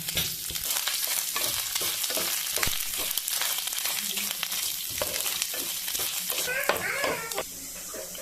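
Curry leaves and grated coconut stir-frying in a pan for Kerala koottucurry, with a steady close sizzle and crackle and occasional scrapes and stirs of a spoon throughout.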